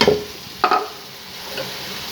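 Fried okra (bhindi) tipped into masala in a pan and stirred, giving a short scrape and clatter with a soft sizzle, then a second brief stir over a faint, steady background hiss; no talking.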